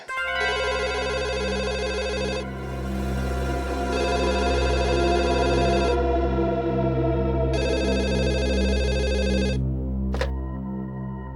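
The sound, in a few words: telephone ringing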